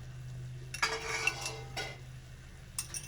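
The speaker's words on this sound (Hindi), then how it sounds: "अब इसको अच्छे से मिक्स कर लेंगे।" A spoon stirs cheddar cheese, chicken powder and other spices in a bowl for cheesy french fries, with soft scraping and a few sharp clinks against the side, close and quiet with no talking.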